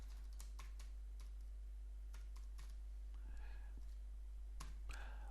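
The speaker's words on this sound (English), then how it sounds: "click inside the article text box and start typing" Fingers tap out text on a computer keyboard while entering an article in a Joomla 3 editor, with quick, irregular clicks, some bursts faster than others, quiet and close over a steady low electrical hum.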